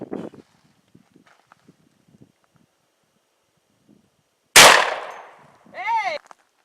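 A shotgun fires once at an outdoor ranch shooting session, a single sharp, loud blast with a ringing decay after a quiet stretch of faint shuffling, followed by a brief shouted voice.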